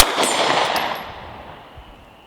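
A Sig P365 Gen 2 compact pistol, loaded with a 12-round magazine, fires at a range: a loud, sharp report whose broad, ringing tail fades over about two seconds.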